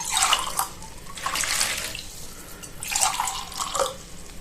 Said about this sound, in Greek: Ενώ το υπόλοιπο θα το αδειάσουμε μέσα σε μια καθαρή λεκάνη μαζί με τους σπόρους